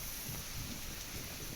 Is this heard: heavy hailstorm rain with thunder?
yes